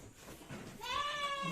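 A Saanen dairy goat on a village dairy farm gives one close, loud bleat that rises and wavers, after a moment of quieter shuffling.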